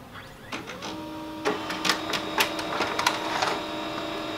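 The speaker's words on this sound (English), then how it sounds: "I'm printing this from a Mac on pages" An HP Color LaserJet Pro M277dw laser printer printing pages from a cold start, with a steady mechanical whir under a run of sharp clicks and paper-feed clacks, close and moderately loud.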